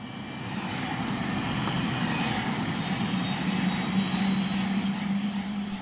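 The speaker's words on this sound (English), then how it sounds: "Our journey to learn more begins with an airlift from Nepal's capital of Kathmandu." An aircraft on an airlift flight out of Kathmandu, Nepal, gives a steady, loud engine drone that holds evenly throughout without pause.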